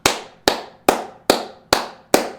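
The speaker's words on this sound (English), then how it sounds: "Gotta give a round of applause" Six sharp, evenly spaced hand claps, loud and close, each ringing briefly before the next, with no voices.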